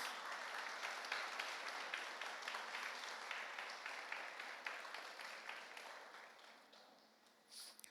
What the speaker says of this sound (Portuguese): Fique de pé no nome de Jesus e aplauda ao Senhor